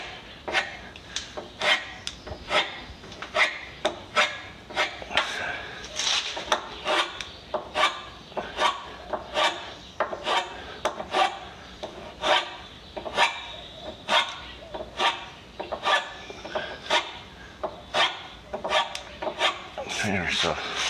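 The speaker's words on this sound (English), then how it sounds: "the file takes off material a lot faster, so the goal here is to get rid of the scratches, nicks, and the grooves" A file rasps across Sapele wood to take out scratches, nicks and grooves on a bed part, making steady, rhythmic back-and-forth strokes, close and fairly loud, with roughly one stroke per second throughout.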